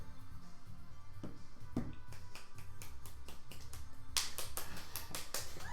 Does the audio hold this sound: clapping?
yes